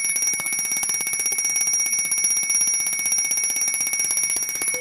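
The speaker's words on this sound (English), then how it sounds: "When your air is low, you will hear this alarm." A self-contained breathing apparatus low-air alarm rings loudly and continuously, a shrill, rapidly pulsing electronic bell tone that fills the whole stretch without pause and with no voices.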